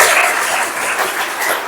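A school audience claps loudly and densely, with even, sustained applause throughout and no pause.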